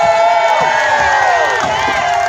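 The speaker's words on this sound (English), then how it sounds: "Let's cheer these guys on." A loud crowd at a lumberjack show cheering and shouting continuously, many voices whooping together in a dense, sustained roar.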